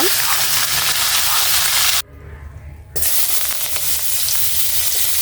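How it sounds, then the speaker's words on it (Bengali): Koi fish frying in a pan, a loud, close hiss of hot oil that cuts out for about a second and then returns just as strongly, with no talking. "তো মাছগুলো আমি উল্টা দিব এই পাশটা আমি ভালোভাবে ভেজে নিব"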